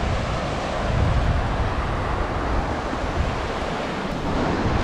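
Steady roar of ocean surf washing onto a rocky, sandy beach on Palawan's west coast, Philippines, mixed with gusting wind buffeting the microphone, continuous and fairly loud with no voices.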